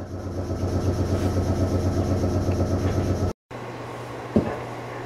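A Meitetsu 6800 series train stands at a station before departure, its steady engine and electrical hum droning alone, then cutting off briefly before resuming, with a faint click near the end.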